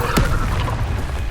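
Incendio fire spell cast in the Hogwarts Legacy video game: a single sharp whooshing burst near the start, followed by a low rumbling boom that fades out.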